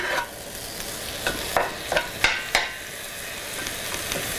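Meat filling fries in an oiled pan under a steady sizzle, while a utensil scrapes and stirs it in several short, close strokes.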